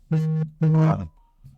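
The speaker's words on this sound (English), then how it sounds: "Pardon my phone. I'll put that on silent." A mobile phone alert tone sounds nearby: two loud, buzzy electronic beeps in quick succession, then a fainter short third one.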